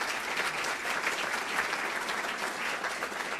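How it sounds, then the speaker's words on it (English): An audience at a leadership prayer breakfast gives city officials a steady round of applause, even and sustained, a full room of clapping at moderate distance. "if we give them a round of applause."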